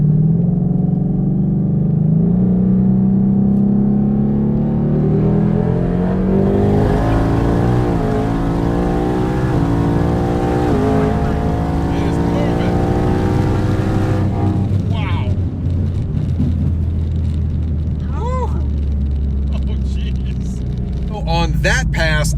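A twin-turbo Ford Mustang with about 800 wheel horsepower at 10 psi of boost accelerates hard on a 60-130 mph pass, its loud engine note climbing steadily through the gears with shift breaks, and a voice talks over it.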